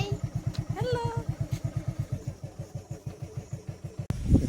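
A motorcycle rides along a muddy, unpaved dirt road to a farm field, its engine pulsing in a steady, fast rhythm. The ride is close and fairly loud, with a brief louder burst near the end.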